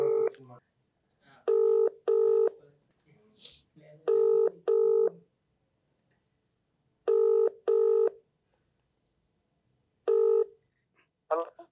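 A phone call is placed on a telephone: paired ringback tones repeat in regular bursts separated by silence. Brief speech sounds fall between the rings.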